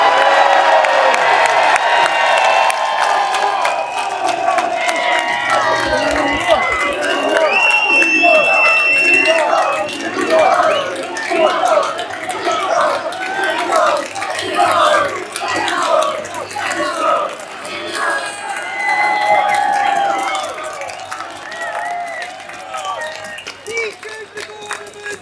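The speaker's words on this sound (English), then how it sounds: "I want the loudest roars and a round of applause to Elon Musk." A huge outdoor rally crowd roars, cheers and applauds in a sustained wall of noise, with whoops and shouts rising above the clapping, swelling and dipping over the long stretch.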